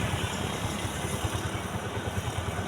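A smoking vehicle's engine runs rough and wild nearby, a steady low chugging idle with a rapid pulsing beat and a faint clatter over it.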